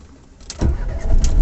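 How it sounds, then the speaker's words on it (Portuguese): A car engine starts up, quiet background noise giving way to a loud cranking catch and then a steady running rumble, close by, with no talking. "Ligar o carro."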